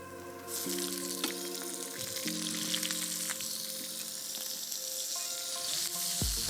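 Garlic, olives and anchovies sizzle in hot oil, a bright continuous frying hiss that starts abruptly and holds steady at close range, with a faint tonal hum underneath and no talk.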